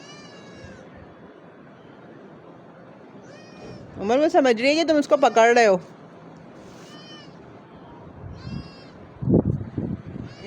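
Cat meowing, a loud, drawn-out plaintive cry of several pulses in the middle, with a few fainter meows before and a short burst near the end, amid people talking in a home.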